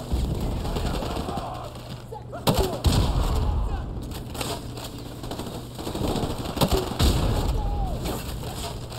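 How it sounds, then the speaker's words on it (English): M203 grenade launcher fire and other gunfire sound in the Call of Duty Modern Warfare Remastered video game, with repeated sharp shots and blasts over a dense, constant battle din, and a voice speaking at times. "Yeah, M203 is being really effective here."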